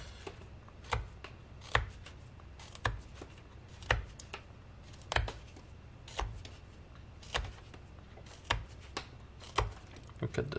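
A sharp knife carves into wood while whittling a small Jason figure, producing a steady series of crisp, close cutting clicks and scrapes roughly every second, with quiet pauses between strokes.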